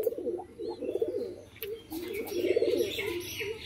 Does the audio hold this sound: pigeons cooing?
yes